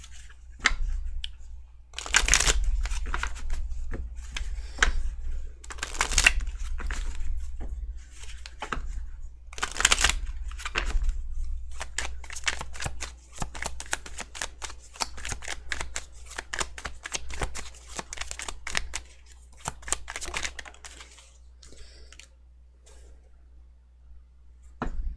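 Tarot cards shuffled for a few clarifier draws, a steady run of soft papery riffles and flicks with brief louder bursts, close and alone, no talk over it.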